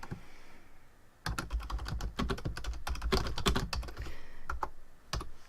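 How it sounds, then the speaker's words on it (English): A computer keyboard is typed on in rapid, uneven bursts of crisp clicks after a short quiet start, close and clear with brief pauses between runs of keystrokes. "I'm going to type in cloud again"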